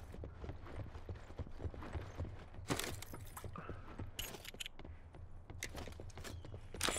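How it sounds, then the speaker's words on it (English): Footsteps outside in Call of Duty: Black Ops 4 tap quietly in a steady walking rhythm, with a few sharper clinks and rattles mixed in, all faint against a low background. "Oh shit, footsteps outside!"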